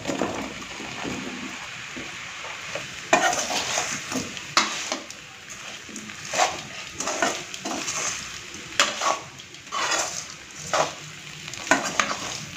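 Cassava (tapioca) pieces are sautéed and stirred in a pan, with a continuous close sizzle cut by repeated scraping strokes of a spatula against the metal, some louder than others, and no voices.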